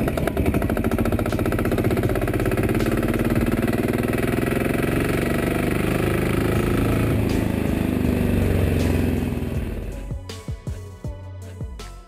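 A Royal Enfield Taurus diesel motorcycle engine runs loud and close with a hard, rapid knocking thump, heavily vibrating, before the sound breaks into a few uneven bursts near the end.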